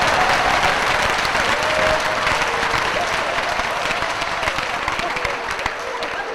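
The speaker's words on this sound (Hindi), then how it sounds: "तालियां बजा दीजिए" A large audience at a Hindi comic poetry gathering breaks into dense, continuous applause, loud and full throughout, with a faint murmur of the crowd beneath.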